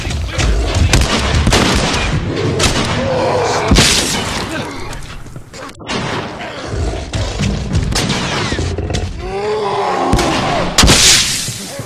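Loud, repeated gunfire in The Last of Us, with sharp shots and shattering, booming impacts scattered across a chaotic fight and a player's voice talking now and then.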